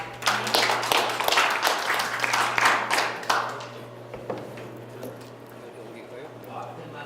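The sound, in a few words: audience applause welcoming a lecturer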